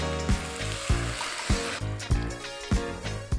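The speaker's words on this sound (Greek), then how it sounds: "θα σβήσω με 750 γραμμάρια ζωμό λαχανικών" Vegetable broth hits a hot soup pot with loud sizzling and bubbling. Several sharp knocks punctuate the hiss at irregular intervals.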